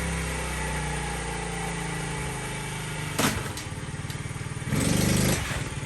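A cold motorcycle engine with its choke off idles steadily and loudly close by, with a rough, uneven rhythm and a couple of brief rises in revs.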